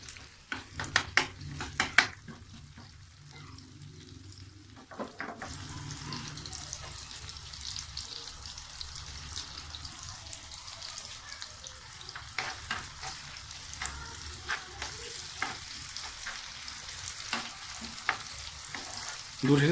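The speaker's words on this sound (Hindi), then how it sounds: "मसर जो है वो हमारे तेज़ आंच के ऊपर जो है वो पक रहे हैं" Whole masoor lentils with garlic sizzle and fry in a pot over high heat while a spoon stirs and scrapes against the metal now and then, close by and steady.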